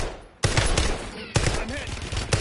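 Call of Duty gunfire erupts in sudden loud bursts of rapid automatic shots, two main volleys close together, with a player's voice faintly mixed in.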